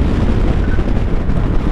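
Steady, roaring wind buffeting the microphone while riding a BMW K 1600 GT touring motorcycle, a dense low rumble that stays loud and unbroken throughout with no voices.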